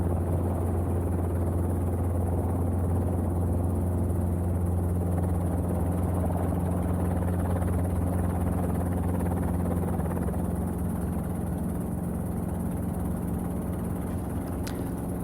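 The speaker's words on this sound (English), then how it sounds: "As I'm taking off, I'm trying to keep the helicopter in trim and trying to keep center line." Robinson R22 training helicopter taking off: a steady, droning engine and rotor hum with a low, even throb, heard continuously from inside or close by, with no talking.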